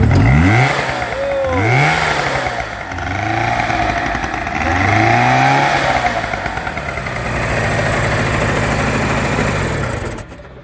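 A small two-stroke car engine runs loudly nearby, revving up and down in repeated swells before settling into a steady buzzing idle, then cutting off.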